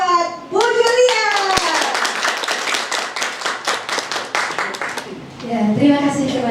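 Clapping for a speaker at a teachers' event, a rapid rhythmic run of claps from a group that starts after a voice and stops before a voice returns, with talking at both ends.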